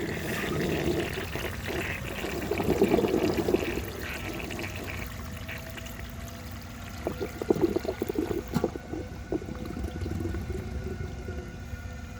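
A 1930 Eljer Sanus toilet flushes with seven grocery bags in the bowl, giving a loud rushing pour of water that gurgles, then tapers to a steady trickle as the tank refills.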